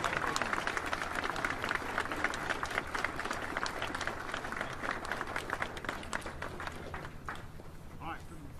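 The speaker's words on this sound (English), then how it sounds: "Give them a round of applause, will you?" Applause from an audience greeting new military enlistees just sworn in with the oath of enlistment, steady dense clapping throughout with some crowd noise and voices mixed in.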